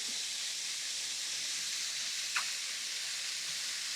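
Onions and mushrooms frying in a pan on medium heat give a steady, even sizzling hiss, with one brief sharper crackle partway through and no talk.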